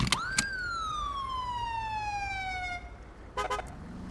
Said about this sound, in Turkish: Hem sirene basıyorsun hem korna da bir anda aynı anda ötüyor.